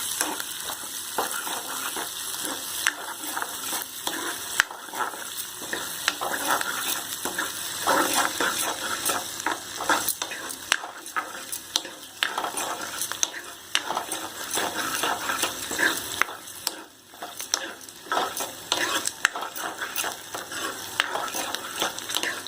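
Garlic for garlic rice is sautéed and stirred in a pan with a constant close sizzle, while the spoon scrapes and clatters against the pan throughout.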